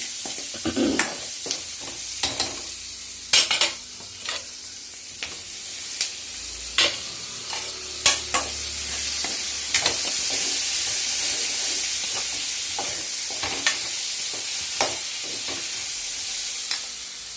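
Ridge gourd and onions sauté in a pan with a steady sizzling hiss, punctuated by repeated sharp scrapes and clicks of stirring, close and moderately loud.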